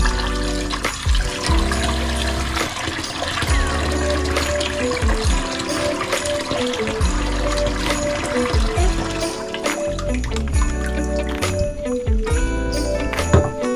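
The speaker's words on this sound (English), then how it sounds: "So we're gonna wash our chicken." Water runs steadily from a tap over raw chicken being washed, splashing and trickling loudly and close, with occasional clatter of handling underneath.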